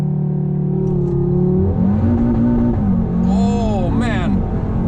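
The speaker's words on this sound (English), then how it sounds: "We're going to do a launch control. So let's put it in S, and the traction control in sport. All right, full throttle." An Audi R8 V10 Plus pulls a launch-control, full-throttle start, its engine note climbing loud and close through the gears, with a voice calling out over the rising revs.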